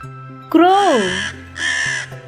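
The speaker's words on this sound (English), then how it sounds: "Crow." A crow gives two loud, harsh caws close by, the first longer and falling and the second shorter, set over soft sustained music.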